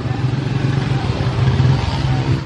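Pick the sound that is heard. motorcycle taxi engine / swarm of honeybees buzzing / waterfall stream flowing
motorcycle taxi engine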